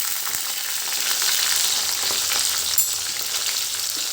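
Chopped onions and halved green chilies sautéing in hot oil with cumin over a medium flame, a steady close sizzle that holds evenly throughout with faint stirring clicks.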